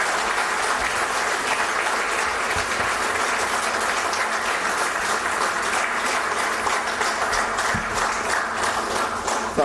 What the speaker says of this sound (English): Professor Santosh Gupta, please give me a big applause.